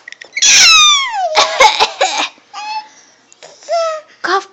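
Someone makes several strained, throaty coughing sounds mixed with whiny vocal sighs and squeaks, loud and close, in uneven bursts.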